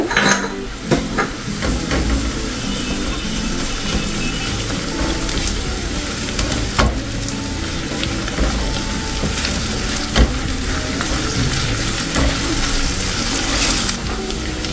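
Sliced onions fry with ginger garlic paste in a pan, giving a loud, steady sizzle and hiss with occasional scrapes and clinks of a spoon stirring.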